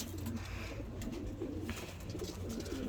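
Hünkari pigeons coo softly in a coop at night, a low, steady rolling murmur of several birds overlapping throughout, close by and without any talk.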